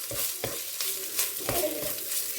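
Butter sizzling as it is stirred into minced meat frying in a pot for soup, soft crackling with a few spoon scrapes and stirring strokes, quiet and close, no voices.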